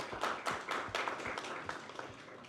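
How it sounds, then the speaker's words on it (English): An audience applauds a presenter being brought to the front of a club seminar: a dense, steady patter of many hands clapping close by, with a few sharper individual claps standing out, lasting the whole stretch. "Let's give him a round of applause."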